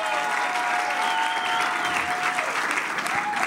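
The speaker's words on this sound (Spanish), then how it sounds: "un aplauso fuerte" Applause from a stand-up comedy show audience, a sustained, loud wash of clapping and crowd noise, with some whistling and voices woven through it.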